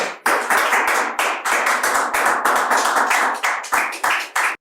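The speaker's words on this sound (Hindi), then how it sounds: "आप सब एक बार जोरदार ताली बजा सकते हैं।" Loud, vigorous clapping fills a poetry recital studio, a close crowd of hands beating in uneven bursts that surge and briefly dip several times before stopping abruptly.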